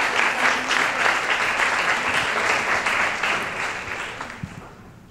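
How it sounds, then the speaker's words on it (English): An honors college colloquium audience breaks into strong, steady applause as a speaker walks toward the stage. The clapping is dense and close, then slowly thins and fades near the end. "let's give her a round of applause as she approaches the stage"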